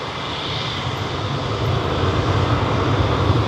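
British Airways flight BA173 to New York taking off at London Heathrow: a close, loud, continuous jet engine roar that grows slightly in strength across the short span.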